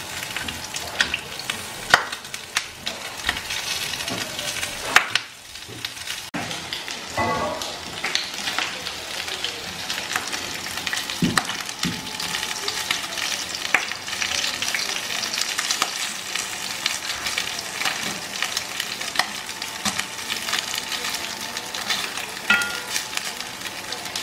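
Sisig frying in a pan, a continuous loud sizzle broken by scraping stirs and clanks of a utensil against the pan, with brief voices in the background.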